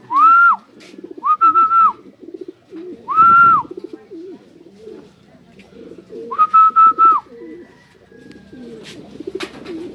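Racing pigeons arrive at the loft at a fun race in Calauag, Quezon, with repeated loud, clear whistle-like calls in short bursts over a background murmur of voices and low bird coos.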